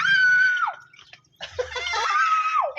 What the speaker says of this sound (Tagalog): Sumisigaw.